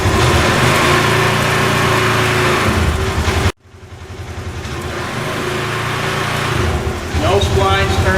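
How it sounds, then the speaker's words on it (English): Polaris RZR XP 900 engine running with four-wheel drive engaged, a loud steady close idle that cuts off abruptly, leaving a quieter rumble that slowly builds back. "we're just going to give it a little bit of gas, and you'll see the spline shafts turning"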